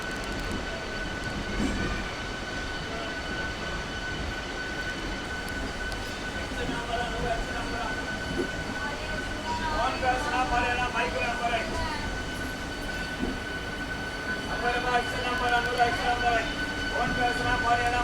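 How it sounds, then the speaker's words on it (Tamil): Steady rumble of the Chennai to Puducherry MEMU express train at a station about to depart, with clanking and brief higher metallic tones, under faint background voices. "நம்மளோட ட்ரெயின் கிளம்புறதுக்கான டைம் ஆகிட்டுங்க ஹார்ன் அடிக்க போகிறாங்க போல்"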